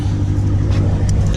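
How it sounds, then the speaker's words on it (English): A Dodge Challenger's engine idles steadily right after a jump start, a close, low, even rumble with a faint hum and no pauses. "So that seems to have got the car started up. It's running."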